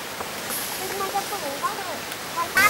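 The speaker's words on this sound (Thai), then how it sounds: "นี่นะครับ คือน้ำตกชั้นที่หนึ่งครับ" Water pours down the first tier of a nine-tier waterfall as a soft, steady broadband rush, with faint chirps and brief higher sounds over it and a sharper burst near the end.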